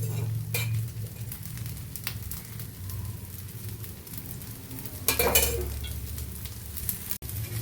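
Moringa leaf dosa roasting in a hot pan gives a steady, close sizzle throughout, with a brief clatter of cookware near the end.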